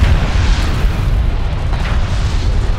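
A continuous, loud, low rumbling blast and roar as an armored vehicle explodes in the desert strategy game Homeworld: Deserts of Kharak, dense and sustained with no speech.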